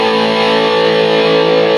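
Distorted electric guitar played through Heritage Big Kahuna speakers, a loud, dense sustained chord that rings steadily for under two seconds with no talking.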